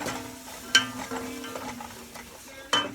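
Chicken curry ingredients being sautéed in a pan for a mild Kerala-style dish, with a low steady sizzle, soft scraping stirs and two sharper clinks of a spoon against the pan.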